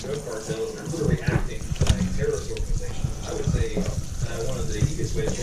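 Raw pulled pork rinsed under a running kitchen tap, a steady broadband water stream with splashing and gurgling changes as the meat shifts under the flow, close and moderately loud.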